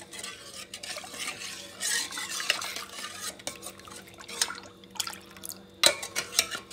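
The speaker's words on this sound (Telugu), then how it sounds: "ఇట్లా పాలు చేతితో కలుపుకుంటూ ఉండాలి" Milk being stirred by hand in a pot, roughly two litres, with steady scraping and clinking of a spoon against the metal and some faint watery sloshing, a few sharper knocks near the end, close and moderately loud with no talking.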